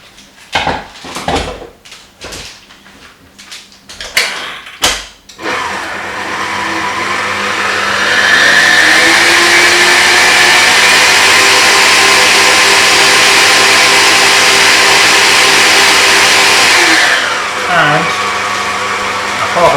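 Lotus Biscoff cupcake batter is worked first with a few knocks and clatters of utensils, then an electric mixer starts and whirs loudly and steadily for over ten seconds before slowing briefly near the end.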